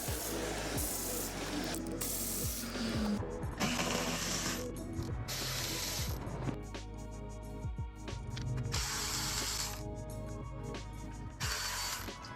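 A hand ratchet loosens valve cover bolts on an Infiniti G35, its rapid clicking close and continuous in repeated strokes, with metallic tool handling throughout.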